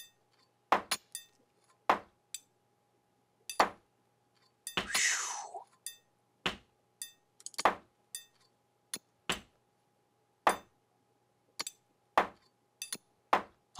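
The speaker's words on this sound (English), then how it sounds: "It's like two swings of the hammer and he's done." Hammer blows build a wall in a medieval colony-building game, sharp isolated knocks at irregular intervals of roughly one second, with a brief hissing swoosh partway through over a faint steady hum.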